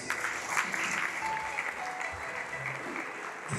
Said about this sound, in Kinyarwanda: Reka twongere dukomere Imana amashyi.